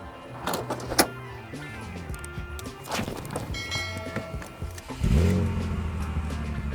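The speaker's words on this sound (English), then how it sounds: "I thought my car wasn't gonna start for a second." A BMW M Coupe engine turning over with clicking and whirring cranking before catching and settling into a loud, steady low idle near the end.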